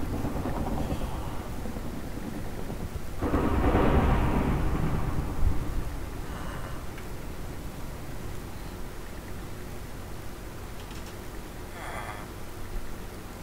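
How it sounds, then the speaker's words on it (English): Thunderstorm in Minecraft, a broad rumbling roll of thunder swelling midway over steady rain-like hiss, with softer distant rumbles following. "I think it's just a regular thunderstorm"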